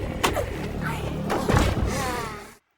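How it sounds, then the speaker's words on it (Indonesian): Heavy thuds and a slam ring out as a door is forced and broken down in an action scene from the film The Beekeeper, with two strong impacts amid busy, dramatic movie sound. "Sebelum pintu didobrak"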